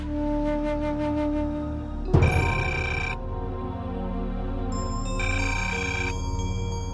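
A telephone rings with bright electronic ringtone bursts in a Bhojpuri film scene. The repeating tonal pulses are loud and close, and a sharp hit lands near the middle. No one speaks.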